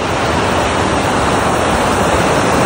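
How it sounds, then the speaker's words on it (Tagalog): Steady, loud rushing water of a muddy river flowing from a large dormant volcano, without pause, a dense wash of noise like a current close by. "May naririnig akong agos ng tubig sa may banda ron."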